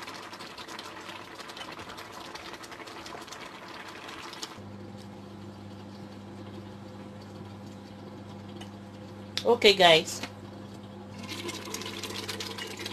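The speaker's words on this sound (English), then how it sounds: "wow, it's just splashing everywhere." Palm oil splashing and sputtering in a cooking pot, a short sharp burst of crackling in the middle of a steady low kitchen hum, with a voice speaking briefly at the start.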